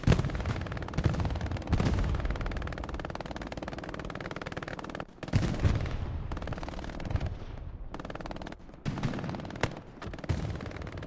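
Rapid gunfire, rocket launches and explosions in a large-scale multiplayer video game match, dense and continuous with bursts of machine-gun rattle and heavier booms throughout.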